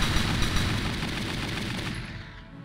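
Rapid Gatling turret fire in a video game, a dense continuous burst of shots loud and close for nearly three seconds before tapering off, with no voices over it.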